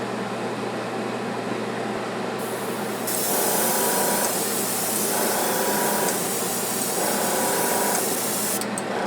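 Airbrush spraying Createx clear gloss coat onto a fishing lure, a steady close hiss that runs continuously with brief repeated bursts of stronger spray, no speech.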